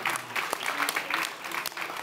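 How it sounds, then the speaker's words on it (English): Brief burst of audience clapping in a studio setting, a moderate, lively patter of many hands with a couple of faint vocal cheers, lasting only a couple of seconds. "Give yourself a round of applause."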